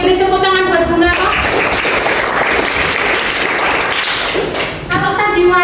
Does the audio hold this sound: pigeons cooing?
no